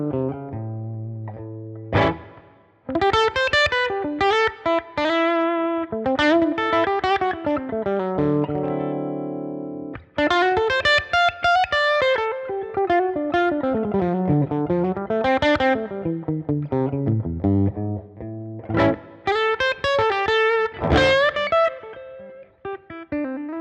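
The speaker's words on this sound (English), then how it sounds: "we'll hear what just the amp and the cab sound like together" Electric guitar played through a Helix amp model and cabinet with reverb, a steady run of sustained, overdriven chords and single-note lines, loud and close, with no talking.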